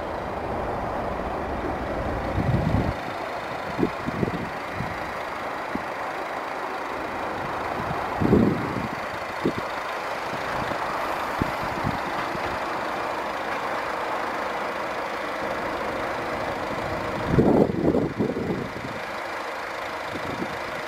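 A 2007 Ford Fusion 1.4 TDCi four-cylinder diesel idling steadily, a low continuous clattering rumble close by, with a few brief louder knocks and bumps around it.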